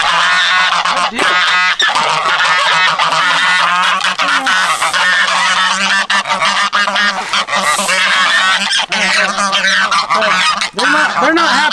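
A dense flock of geese honks loudly and continuously nearby, many overlapping calls forming a raucous, unbroken chorus.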